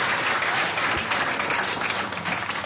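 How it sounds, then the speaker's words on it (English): Audience applause for Serj Tankian at a live Q&A, a dense, even wash of clapping that holds loud for a few seconds without talk. "So give Serj a round of applause right now for giving us this wonderful insight into the record."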